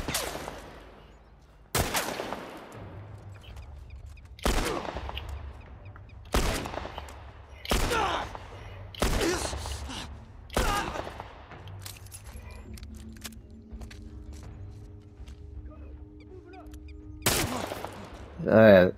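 Enemy gunfire in The Last of Us Part I, heard as a series of about nine sharp, separate shots spaced a couple of seconds apart, each with a short reverberant tail over a low game ambience.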